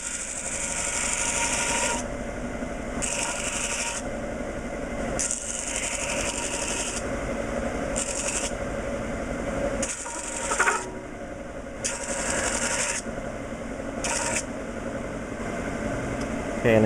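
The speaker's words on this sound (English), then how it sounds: "we'll give it just a quick cleanup on a disc sander" A disc sander grinds steadily across a machined engine mount for a Willys, a continuous rasping whir with brief pauses and shifts in pressure, close and fairly loud, with no talk.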